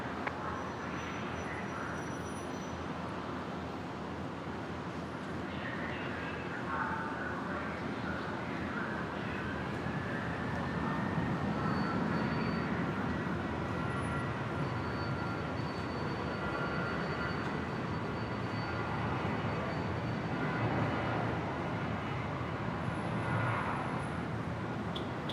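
A Virgin Australia jet takes off from runway 01 right at Brisbane Airport, a steady broadband jet roar that swells gradually and holds loud throughout, heard from a distance with no talk.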